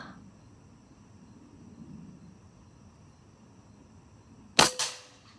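A single sharp crack of a regulated Benjamin Discovery .22 air rifle firing rings out loud and close near the end, after quiet background hiss, followed by a brief echoing tail.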